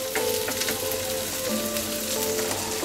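Peas sizzle steadily in a hot pan with onions for a Yippee masala noodles dish, a close, even frying crackle with soft stirring scrapes and no speech.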